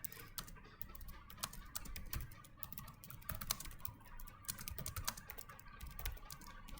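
Fast typing on a computer keyboard during speed practice, a dense continuous patter of quiet key clicks with irregular rhythm, close but faint, no speech.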